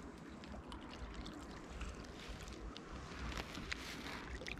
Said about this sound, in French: Le son de la cascade se reflète dans la roche ici.